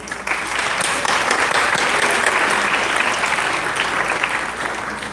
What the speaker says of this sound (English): Let's give each of them a big round of applause.